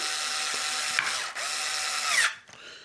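Electric screwdriver running at low speed on a Traxxas Slash 4x4 RC car, a steady whirring drive with ratcheting clicks, briefly pausing near the middle and stopping near the end, close and alone.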